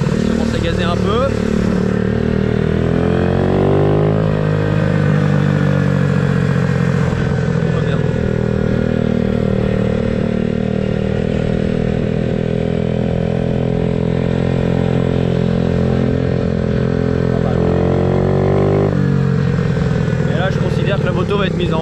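A motocross motorcycle engine runs loud and close, its pitch rising and falling as the throttle is blipped repeatedly, with a steady buzzing drone throughout.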